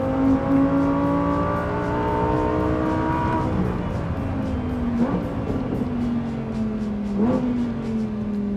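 Lamborghini Huracan Tecnica V10 engine on a race track, loud and close, with rising revs, shifts around the middle, and a sustained high-pitched drone through the rest.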